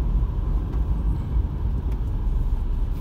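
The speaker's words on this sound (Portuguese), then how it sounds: "é o caminhão da coleta seletiva" A green recycling collection truck drives by on a rainy beachfront street in Praia Grande, a steady low engine rumble with road noise, moderately near and continuous, with no voices.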